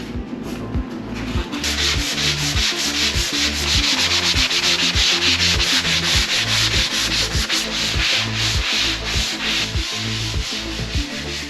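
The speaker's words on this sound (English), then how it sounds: "I'm using the sanding block to go back in and do a lot of the more lighter sanding" A hand sanding block scrubs over dried drywall mud on a garage wall in rapid, regular back-and-forth strokes, each pass a loud close rasp, repeating steadily with no talk.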